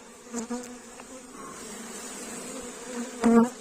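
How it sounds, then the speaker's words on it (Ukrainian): Honeybees buzzing around their hive nearby, a low droning hum with a few louder passes close by, no talking. "хочу показати, було тепло ці всі часи. І от результат цього тепло"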